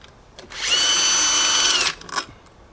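A power drill spins for just over a second close by, a loud steady whine while removing screws from a Yamaha scooter engine casing, followed by a few faint clicks and handling noises.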